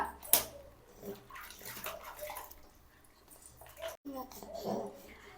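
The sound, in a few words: water splashing while bathing a baby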